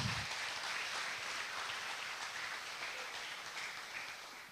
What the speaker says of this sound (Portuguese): Dê um aplauso a Jesus aí, cara.